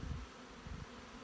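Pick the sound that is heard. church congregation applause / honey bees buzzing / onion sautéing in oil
honey bees buzzing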